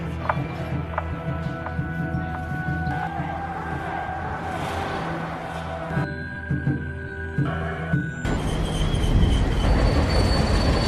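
A freight train rolls along the tracks with sustained metallic squealing and droning tones, then a louder, rougher rumble of wheels takes over near the end.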